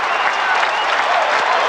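A stadium crowd applauds and cheers runners at the Prefontaine Classic track meet, a dense, loud roar of clapping that swells throughout, with a commentator's voice faintly under it.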